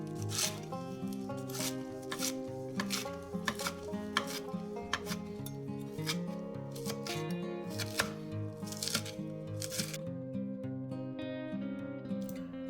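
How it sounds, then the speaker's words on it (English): Spinach is roughly chopped with a knife on a cutting board, giving quick, fairly faint rhythmic chops and taps that repeat steadily over soft kitchen background sound. "Lastly, wash and roughly chop the spinach."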